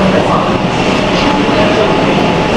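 A Kolkata Metro Green Line train pulls out of the station with a loud, steady rumble and whine of wheels and motors close by, a continuous roar throughout.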